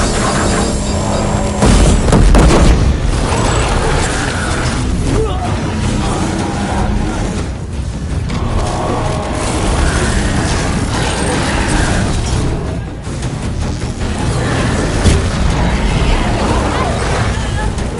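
Disc launcher firing in Horizon Zero Dawn amid a loud machine battle, mechanical whirs and thumping booms layered into dense continuous combat noise for many seconds, with no talking.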